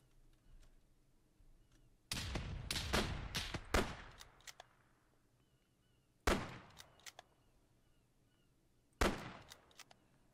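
ARMA 3 combat in a custom battle pitting Imperial Guard against the Japanese Imperial Army: a loud, rapid volley of gunshots early on, then two separate sharp bursts later, with quiet stretches between.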